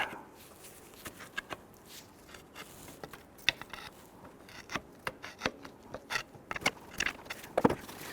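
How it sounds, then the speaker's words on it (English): A pry bar works the alternator free on a 2006-2012 Toyota RAV4 3.5L V6, producing scattered metallic clicks, knocks and scrapes at an irregular pace, close and moderately quiet, with no speech. "You can simply grab a pry bar, go between the alternator, and we'll just kind of start to work that free a little bit."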